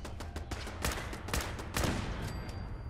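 Rapid bursts of gunfire in Fallout 4, a run of sharp shots in quick succession, fairly loud and close, with no talk over them.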